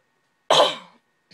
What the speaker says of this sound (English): Sorry, yet again, I cough.